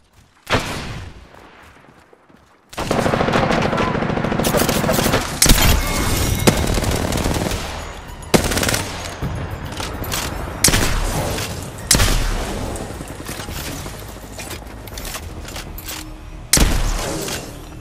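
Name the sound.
gunfire in the video game Apex Legends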